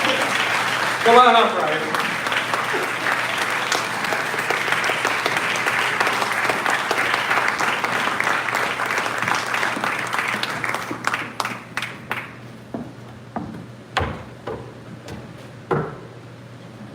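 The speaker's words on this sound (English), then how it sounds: "Give a round of applause for Jonathan Rock and Steve Lansing" A political campaign event crowd applauds for a Michigan candidate for governor, with loud sustained clapping that thins out into scattered individual claps near the end, while someone speaks over it briefly at the start.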